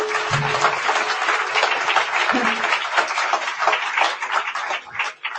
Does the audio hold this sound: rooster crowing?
no